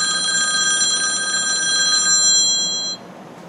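Telephone ringing for an incoming call, a loud electronic trill held steadily for about three seconds before cutting off abruptly.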